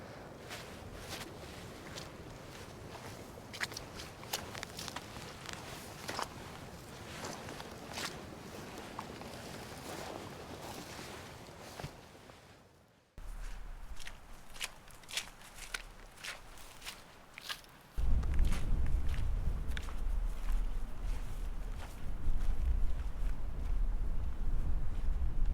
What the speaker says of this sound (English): I'm just going to walk through the bog